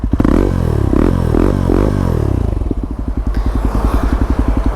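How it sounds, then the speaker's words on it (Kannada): Exhaust of a 2024 Yezdi Adventure, a 333 cc liquid-cooled four-stroke single with the dB killer removed, barks through several sharp close revs, then drops back to a loud, even, rapid idle thump. "ಅವ್ನು DB ಕಿಲ್ಲರ್ ತೆಗೆದಿರೋದ್ರಿಂದ ಎಕ್ಸಾಸ್ಟ್ ನೋಟ್ ಹಿಂಗೆ ಇರೋದು."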